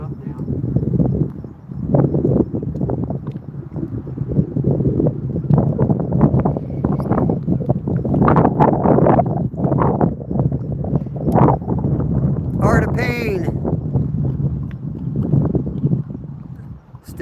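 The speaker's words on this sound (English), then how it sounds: "the wind's really picking up now" Strong wind buffeting the microphone outdoors on a fishing outing, with steady rumbling gusts throughout under continuous talking and a brief sharp noise near the end.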